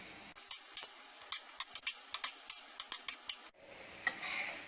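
A spoon or spatula stirs vegetables for tawa pulao in a pan over medium heat, making a steady run of about a dozen crisp scraping strokes, close and fairly quiet, then a softer sizzling rustle.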